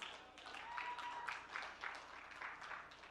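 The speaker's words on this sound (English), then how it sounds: "Let's give them both a huge round of applause." Audience applause at a talk event honoring the founders of Peace Boat and Peace One Day, a fairly quiet, steady patter of clapping from a crowd that runs through the moment and stays dense and even.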